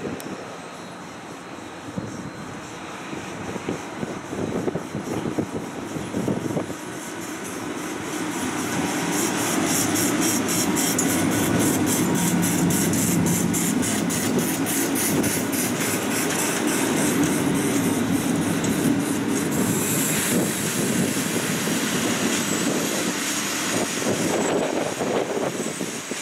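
A fast train from Veszprém and Székesfehérvár rumbles into Budapest Déli station, its broad, steady roar building and then holding loud for a long stretch, with faint rhythmic clatter and no talking.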